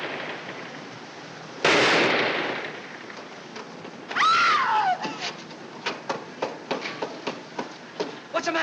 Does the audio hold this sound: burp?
no